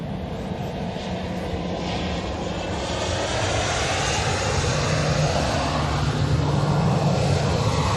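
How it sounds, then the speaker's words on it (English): A Ryanair airliner from Belfast moves on the ground at Manchester Airport, its engines giving a loud, steady roar that holds and slowly swells over eight seconds, heard from close by without any talking. "Good to see that Ryanair from Belfast is on the move this time."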